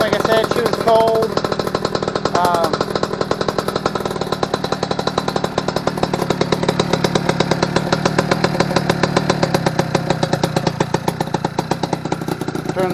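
A cold Eton Viper 90R two-stroke engine runs on choke, a steady rapid buzzing putter that stays loud and close throughout with slight fluctuations in pitch.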